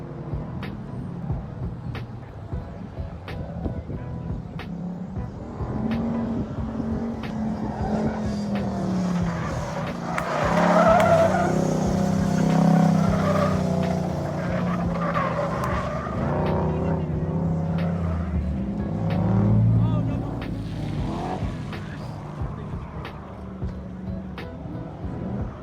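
A station wagon with a Corvette chassis swap runs an autocross course, its engine droning and rising as the tires squeal and skid through the turns, loud and continuous, with some talk mixed in.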